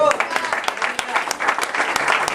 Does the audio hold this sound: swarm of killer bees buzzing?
no